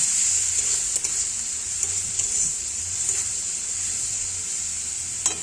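Pointed gourd and peanuts frying in a pan, a loud, continuous hiss of sizzling oil with faint occasional clicks of stirring, close and steady with no talking.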